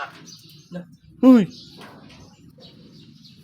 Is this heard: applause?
no